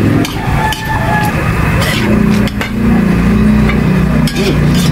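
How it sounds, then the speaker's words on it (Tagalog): Chicken bopis with a splash of oyster sauce being stirred in a hot pan, a steady loud sizzle and fry with scraping stir strokes and occasional utensil clinks throughout. "Haluin ko lang guys kasi baka masunog yung lagi."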